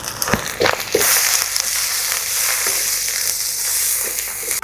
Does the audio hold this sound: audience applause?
no